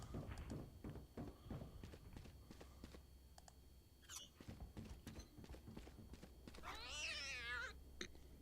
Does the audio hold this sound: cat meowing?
yes